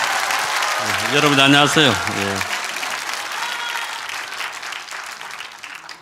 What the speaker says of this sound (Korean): 다시 한번 박수로 맞이하겠습니다.